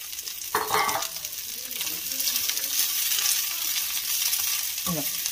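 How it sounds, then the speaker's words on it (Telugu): Fresh coriander leaves and stems sizzle steadily in hot oil in a pan for a coriander pickle, a continuous close frying hiss with a few stirring scrapes near the start and end, no talk. "దీన్ని మంచిగా ఫ్రై చేసుకోవాలి."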